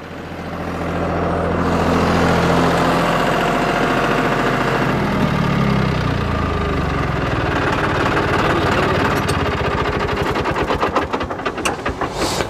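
Tractor PTO driving a Jagatjit straw reaper machine, a loud steady mechanical engine drone with heavy low rumble and rapid rattling vibration building toward the end, no voices.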